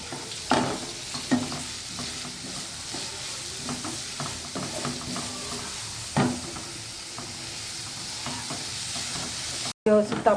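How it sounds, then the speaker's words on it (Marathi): Spring onion greens stir-fried in a hot pan for a garlic pepper chicken, a continuous close sizzle broken by scraping stirs and a few utensil knocks against the pan. "आता ही कांद्याची पात टाकत आहे वरती. ही व्यवस्थित परतून घेऊया आपण."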